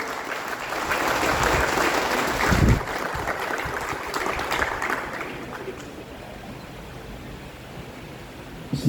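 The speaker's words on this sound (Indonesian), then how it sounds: "Boleh tepuk tangannya untuk Pak Rumaji, teman-teman." A seminar audience at a company anniversary event claps steadily for several seconds, a dense rushing patter that gradually thins and quiets toward the end.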